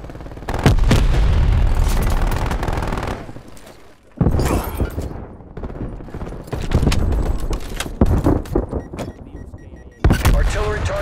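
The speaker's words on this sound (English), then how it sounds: "Incoming artillery." An artillery strike in Call of Duty: Black Ops Cold War lands as heavy, loud booms and bursts. Big impacts hit near one, four and ten seconds, with rumbling, crackling fire between them.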